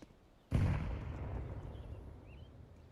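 A grenade blows up in a video game with one sudden loud blast that decays into a long rumbling tail, and no voices are heard during it.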